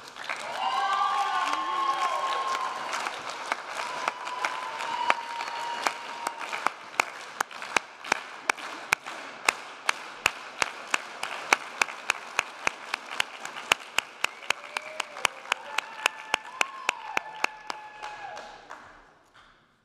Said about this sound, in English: I'd ask his colleagues to please provide the slow clap